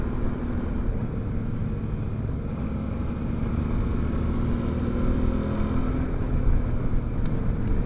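Motorcycle engine on a winding road, a steady low rumble with wind noise, rising slightly in revs near the end as gears drop; continuous and close, no talk.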